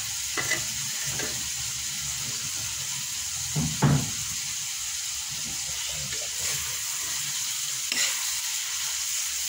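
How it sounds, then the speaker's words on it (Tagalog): Food being stirred as it fries in a pan, a steady close sizzle with a few louder scraping stirs rising above it. "Pwede na siyang haluin."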